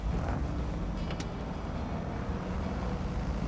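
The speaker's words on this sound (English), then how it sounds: "This truck's making weird noises." Low rumbling engine drone from a Royal BM17 truck in the video game Snowrunner, steady and continuous with no talk over it.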